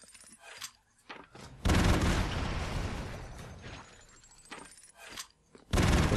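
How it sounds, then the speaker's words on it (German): Rapid bursts of video game gunfire and explosions from Broforce, loud dense volleys separated by quieter gaps, with sparse game effects between. "Gibt so 10 Milliarden Schüsse ab"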